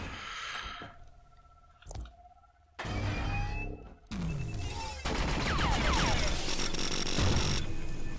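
Gunfire in the sci-fi shooter The Signal From Tolva, loud bursts and sharp cracks arriving in uneven clusters among other game effects, growing denser and more sustained toward the end.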